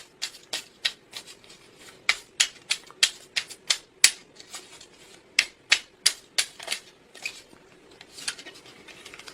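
Tarot cards are flipped and snapped down one after another, a rapid series of crisp, close papery clicks and flicks in an uneven rhythm, with no talking.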